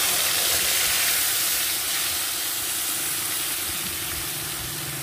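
A paste of ground ginger, green chilli, tomato, onion and garlic sizzles in hot oil, giving a steady, dense, close hiss that fades slightly over the few seconds, with no talking.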